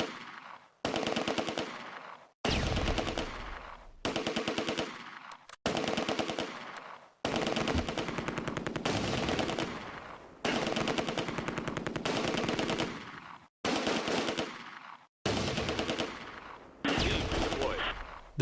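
Mortar and machine-gun fire in the Close Combat: A Bridge Too Far wargame at Nijmegen bridge, loud sustained bursts of rattling automatic fire and blasts in about nine separate volleys broken by short silences.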